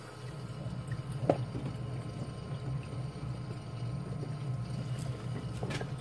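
A Miracle Mud reactor runs with a steady low mechanical hum and faint watery movement, continuous and quiet with a couple of brief clicks.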